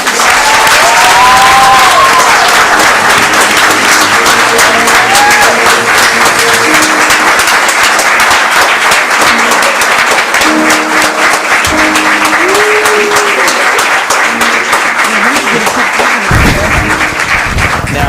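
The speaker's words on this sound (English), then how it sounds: "Let's give this incredible team a round of applause." A council chamber audience in Newport News gives sustained, loud applause for the Virginia High School Class 4 girls indoor track state champions. The clapping stays dense and steady for nearly twenty seconds, with faint tonal sounds in the background.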